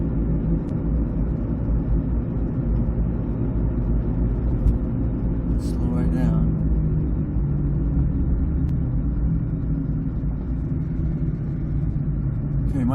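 Steady low humming drone from the front of a 2006 Ford Escape Hybrid while driving, continuous throughout with road rumble and a brief faint squeak partway through.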